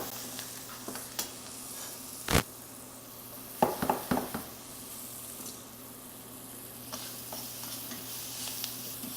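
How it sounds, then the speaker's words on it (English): Flour-dredged chicken for piccata sautés in a pan with a soft, continuous sizzle, broken by a few close utensil knocks and clicks, fairly quiet overall. "So we just want to saute this"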